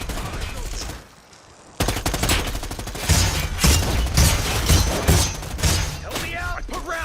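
Fast, heavy automatic gunfire in the video game Predator: Hunting Grounds, loud and close, pauses briefly and then resumes in sustained bursts with thuds, while a voice talks over parts of it.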